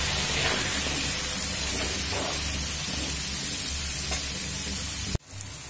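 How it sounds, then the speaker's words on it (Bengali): Vegetables frying in a pan with salt and turmeric, a steady, close hiss of sizzling oil running without pause before cutting off abruptly near the end. "এগুলো ভেজে নেব"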